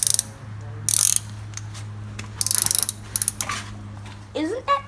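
A 5.3 LS engine swapped into a 1946 Chevy truck is cranked over by hand with a ratchet to prime the oil: bursts of rapid ratchet clicking, then a few separate clicks and metallic creaks over a low steady hum.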